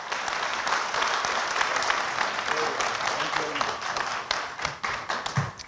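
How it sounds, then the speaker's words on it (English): An audience at a corporate HR panel discussion applauds with a sustained round of clapping. The clapping is moderately distant and thins into scattered claps toward the end. "So can we have a big round of applause"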